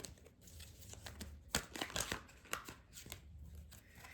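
Tarot cards being shuffled by hand, a run of soft papery riffles and slaps with irregular rhythm, close and fairly quiet, with no talking over it.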